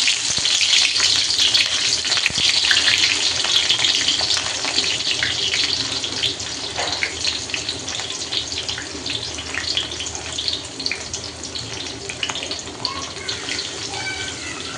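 Lemongrass frying in hot cooking oil for a shellfish dish, a steady loud hissing sizzle that slowly eases, with no talk over it.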